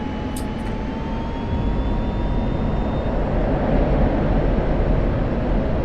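An F-16 jet engine in the DCS video game roars at full power on its takeoff roll down the runway, a loud, steady broadband rush with a faint rising whine and no talk.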